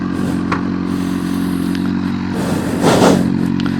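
A CFMOTO 750SR sport motorcycle with a 749cc engine idles steadily up close, its low, even rumble swelling briefly into a short rev near the end, no talking.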